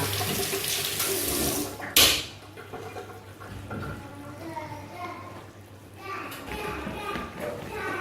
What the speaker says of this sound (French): dans un ramequin, je mets un tout petit peu d'eau.